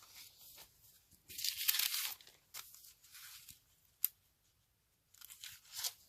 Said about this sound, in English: I'm just going to tear off this extra piece